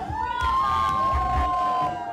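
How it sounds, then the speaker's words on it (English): An audience cheers and shouts at a charity bra fashion show, a cancer-awareness fundraiser held by a realtors' women's council in Charlottesville. The crowd noise is a dense, steady roar with a thin whistle-like tone running through it. "these models got everyone cheering"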